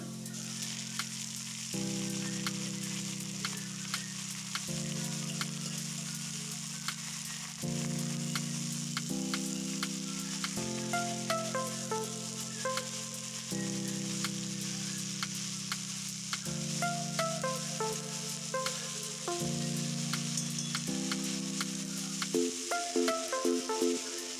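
Mixed leafy greens fry in hot oil with tempering spices, a constant close sizzle with occasional crackles, heard alone over a steady faint tonal background.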